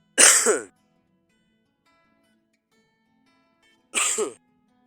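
One person coughs and clears the throat twice, two short harsh bursts about four seconds apart with near silence between, close and fairly loud, outdoors at a mountain summer pasture.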